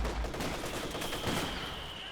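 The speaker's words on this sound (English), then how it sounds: "Double mortars landing." Mortar shells land in Company of Heroes 2 as a burst of rapid, crackling explosive impacts mixed with gunfire, fairly faint and continuous across the short stretch.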